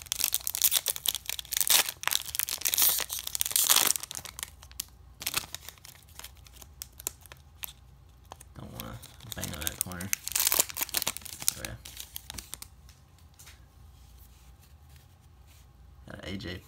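The foil wrapper of a 2020 Bowman Blaster trading card pack is torn open, producing loud, dense crinkling and ripping that eases into quieter rustling, with a voice talking alongside.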